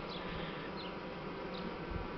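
Honey bees buzzing around the hive, a continuous faint hum of many insects.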